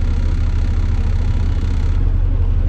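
A truck tractor's engine running steadily as the clutch is let out slowly during an in-cab check, a loud continuous low rumble with an even throb and no noticeable rise in revs.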